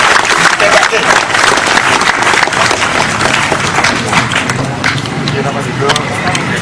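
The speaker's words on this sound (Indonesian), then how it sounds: "Tepuk tangan untuk Ustaz Wijayanto." Loud, dense applause from a large audience at a Maiyah religious gathering with KiaiKanjeng, greeting a preacher. The clapping rolls on steadily and a voice talks over it.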